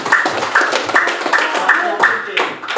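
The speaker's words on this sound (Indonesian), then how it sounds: "kita beri tepuk tangan untuk semua pemenang" Applause for the winners at a teachers' good-practice sharing event at a state senior high school, with rhythmic group clapping in regular bursts alongside talk and chatter throughout.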